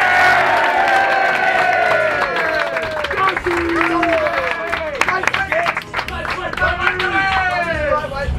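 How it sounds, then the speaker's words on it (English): A crowd applauds and cheers for the captain at a school rugby exhibition match, clapping mixed with voices and babble as a person keeps talking over the noise. "Everyone, big round of applause for captain, my captain, Gussie"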